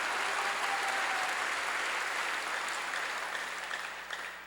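Sustained applause from a church congregation during a sermon, a dense wash of many hands clapping that holds steady and then slowly fades toward the end, with no talking over it.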